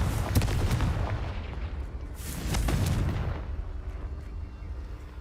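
A fiery blast spell cast in Hogwarts Legacy erupts in booming bursts, with a heavy explosion early, another loud swell around the middle, then a fading rumble.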